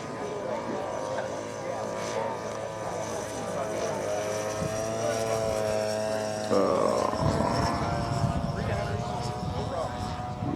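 A large radio-control model airplane cruises past at a club fly-in event. Its steady buzzing engine drone shifts in pitch as it passes, then turns rougher and louder near the end.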